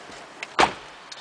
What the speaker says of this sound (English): Close the door again.